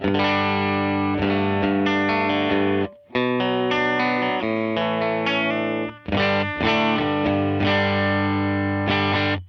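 Clean electric guitar chords through an AC and Matchless amp preset on an HX Stomp ring out steadily, full and sustained, with a couple of brief pauses between phrases.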